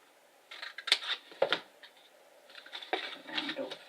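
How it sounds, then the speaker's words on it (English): Paper box being cut and notched for Christmas gift tags makes several quiet snips and paper rustles, coming in short irregular bursts close by. "So we go along and we cut up and we notch it in."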